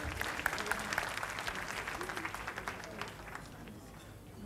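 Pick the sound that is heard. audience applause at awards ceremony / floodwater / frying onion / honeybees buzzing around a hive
audience applause at awards ceremony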